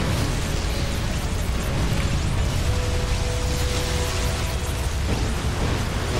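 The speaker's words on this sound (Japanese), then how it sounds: "何か爆発した" An explosion goes off in the video game Earth Defense Force: Iron Rain, a steady loud rumbling blast that fills the whole stretch amid continuous game action and clatter, with no voices.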